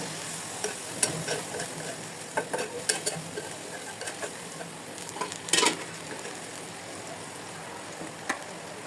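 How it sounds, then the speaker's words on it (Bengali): Ginger and garlic paste fries in a pan while being stirred, a soft continuous sizzle broken by scattered scrapes and clicks of a spoon against the metal, with one louder burst of sizzling partway through. "আদা বাটা রসুন বাটা দিয়ে নাড়তে থাকবো। আদা বাটা রসুন বাটাগুলো ভালো করে ভেজে নিতে হবে"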